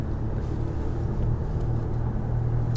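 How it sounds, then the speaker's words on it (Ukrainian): A Lexus LS pulling away under light throttle, a low steady engine and road rumble heard from inside the car, smooth and continuous with no voices. "Тут трошечки ти нажимаєш на газ, все, машинка їде вже, вона реально вже їде."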